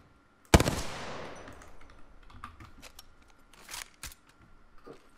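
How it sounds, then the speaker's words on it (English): Sniper gunfire in Apex Legends: one sharp, loud shot rings out, then a few fainter distant cracks and clicks follow over the next few seconds, with no talk. "they got snipers shooting each other"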